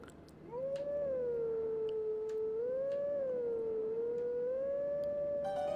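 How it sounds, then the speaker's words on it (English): A wolf howl from The Legend of Zelda: Twilight Princess rises and wavers as one long, loud, sustained tone, holding for about five seconds over a low background hum with faint clicks. "Let us howl together."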